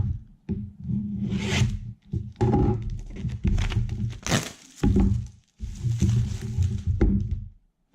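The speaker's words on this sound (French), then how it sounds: "on va déballer ça et voir ce qu'il y a dans cette petite boîte" An Apple Watch Series 4 box is unboxed up close, with cardboard sliding, soft thunks and papery rustles coming in several short bursts with brief gaps between them.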